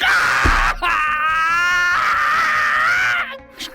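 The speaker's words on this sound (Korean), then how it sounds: "날카로운 비명이 들리더니 소리가 뚝 끊겼다" A man in a dramatized torture scene lets out a sharp, loud, sustained scream that rises and wavers for about three seconds before cutting off abruptly, with no speech over it.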